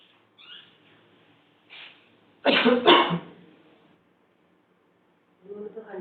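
One harsh, loud cough bursts out close by from a person with nasal polyps, set between faint, quiet speech in an indoor room.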